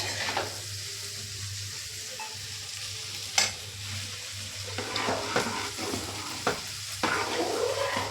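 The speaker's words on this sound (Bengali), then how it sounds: "পোস্ত ছড়িয়ে যে আলু ভাজা হচ্ছে" Potatoes sprinkled with poppy seeds fry in a pan with a low, steady sizzle, a background hum, and a few sharp scrapes and knocks of a spatula stirring them, heard close without speech.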